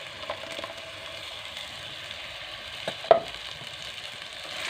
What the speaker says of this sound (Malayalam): അപ്പോൾ നമുക്ക് ഈ അരപ്പ്, അതായത് തേങ്ങയും മുളകും മഞ്ഞളും മല്ലിയും കൂടി അരച്ചത് ഇതിലേക്ക് ഒഴിച്ച് കൊടുക്കാം